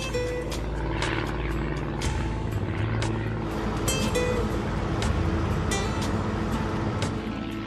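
Small propeller aircraft flying along the Maine coast over islands, a steady loud engine drone with propeller buzz heard from inside the cockpit, continuous throughout.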